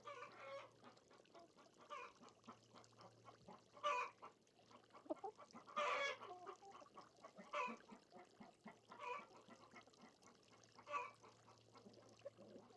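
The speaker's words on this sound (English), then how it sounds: "Tina Turner is the only other chicken that we have that lays white eggs besides the Ancona" Chickens cluck and squawk in a few loud bursts over a steady low hum, with quieter fowl chatter filling the gaps.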